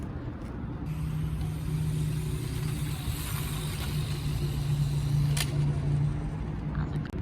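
A cheap tiny RC rally car running at top speed, its small motor giving a steady, high buzzing whine that holds nearly constant throughout, close to the microphone.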